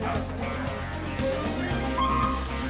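Dogs at a crowded shelter, close whimpers and short yips with a brief bark over a low background murmur.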